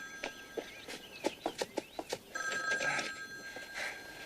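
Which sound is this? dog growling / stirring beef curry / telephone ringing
telephone ringing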